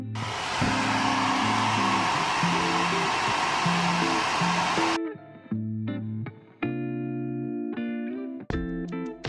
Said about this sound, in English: For best practice, heat the adhesives with hairdryer on your nail.